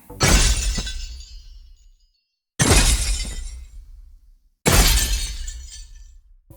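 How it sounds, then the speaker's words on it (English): Three heavy video game explosion crashes with a deep boom underneath and bright shattering ice-impact debris layered on top, each fading out before the next hits. "So I take that explosion sound and then on top of that I have these ice impact hit sounds,"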